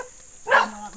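A dog barks once at mid-distance on a rural farm property, a single short burst standing out over quiet outdoor background.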